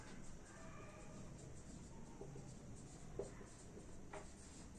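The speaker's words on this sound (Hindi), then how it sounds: "तो हम यहाँ पे लिखते हैं द कोऑर्डिनेट्स ऑफ" Soft, faint scratching of a pen writing coordinates by hand during a Class 10 linear equations lesson, with a few light strokes and taps and no voice.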